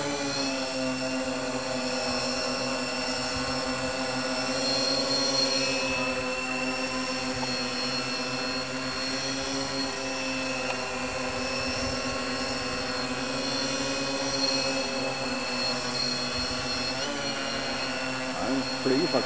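A quadcopter with inverted motors hovers and flies steadily, giving a continuous loud whirring drone with tonal rotor whine and no break.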